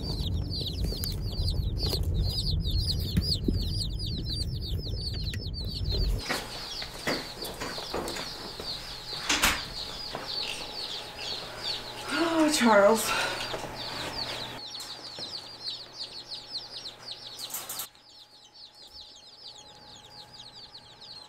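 Baby chickens just collected from the post office cheep constantly in a high, busy chorus, loud at first and then fainter, with handling noises and a brief voice in between.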